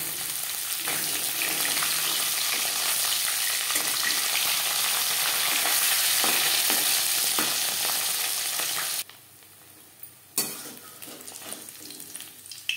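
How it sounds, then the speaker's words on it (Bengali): Fish pieces fry crisply in hot oil in a pan, a loud, steady sizzle and crackle that cuts off sharply near the end, followed by a quieter clatter and faint kitchen sounds. "মাছ আমি একটু কড়া করেই ভাজলাম"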